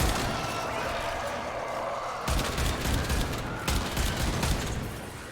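Rapid bursts of gunfire from a competition gun in a video game, sharp repeated shots crackling over a background hum, heavier volleys in the second half.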